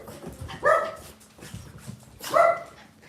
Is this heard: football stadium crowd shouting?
no